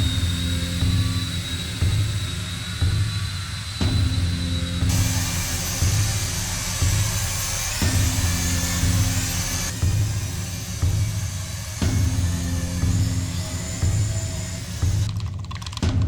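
A cheap toy drone flies circles and S-shaped maneuvers, its steady high-pitched motor whine holding close and continuous with slight shifts in pitch as it turns, with no talking.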